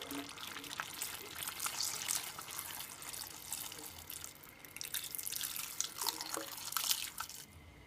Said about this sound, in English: Then I'm also gonna add some water